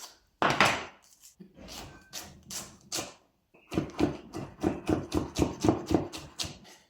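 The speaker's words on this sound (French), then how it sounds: "Deuxième étape, on va ciseler finement une échalote." A knife chops a shallot finely on a cutting board, a run of crisp, rhythmic taps in two bursts, the second faster and steadier, close and clear with no talk.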